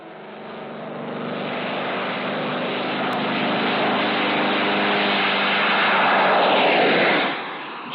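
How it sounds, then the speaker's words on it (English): Propeller aircraft engine roaring steadily and loudly throughout a jet-assisted takeoff, sustained broadband thrust noise building slightly before cutting down near the end. "Jet-assisted takeoff."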